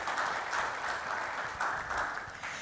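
An audience at an International HR Day event applauds HR professionals with sustained, even clapping from a roomful of people, moderately loud and continuous, with no talk over it.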